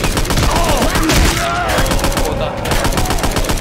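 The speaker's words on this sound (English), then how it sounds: "Hey, keep shooting! Keep shooting!" Rapid, loud gunfire fills a Left 4 Dead 2 zombie shootout on a custom map, with dense overlapping bursts and shouted voices underneath throughout.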